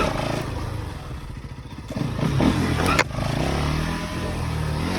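A Bajaj Pulsar NS200 motorcycle rides off, its engine droning steadily and loud close by, with a revving swell and a sharp clatter midway before settling back to a steady hum.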